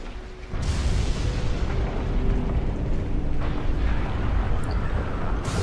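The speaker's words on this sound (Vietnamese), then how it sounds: "tiếng nổ mạnh vang lên ầm trời" A sound effect of a powerful explosion in a Vietnamese audiobook: a sudden roaring blast that sets in after a brief pause and keeps rumbling as a dense, loud, sustained boom.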